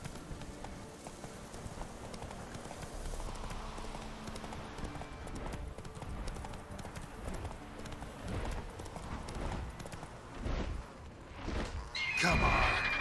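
Geralt's horse Roach galloping in The Witcher 3, a fast steady clip-clop of hooves on open ground in Velen under game ambience, with a brief rising rush near the end.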